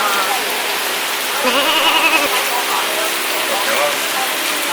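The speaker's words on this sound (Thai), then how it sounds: "ตอนนี้ฝนตกแล้ว" Heavy rain falls steadily at a temple in Hong Kong, a dense continuous hiss, while voices talk indistinctly beneath it.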